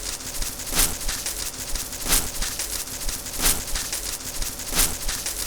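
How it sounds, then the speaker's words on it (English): Crunchy, broadband stomps on dry leaves repeat about four times at an even, slow pace over a dense rustling background. "This loop here was originally me stomping on leaves"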